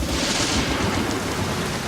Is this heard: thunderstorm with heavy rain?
yes